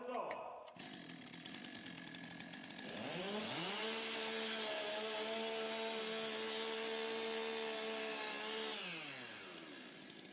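A chainsaw revs up during warm-up at a STIHL TIMBERSPORTS German Championship, moving from a rough idle to a loud, sustained high-pitched whine for several seconds before dropping back, with crowd and announcer noise around it.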